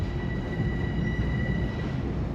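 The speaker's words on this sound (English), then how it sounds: "It's a train from Southeast" A train arriving at Grand Central Terminal gives a loud, steady rumble with a faint high whine above it, heard at close range inside the station.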